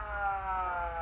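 A police car siren in a film, a steady sustained wail with a low rumble beneath it, heard alone for about a second.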